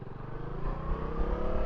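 A Bajaj Dominar 400 motorcycle engine braking at about 30, its low rumbling exhaust steady and close, with a slight rise in intensity toward the end.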